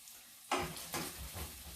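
Chilies dropped into a hot pan with sausage, a sudden loud burst of sizzling that swells again in a couple of surges and stays under a steady hiss, no talking.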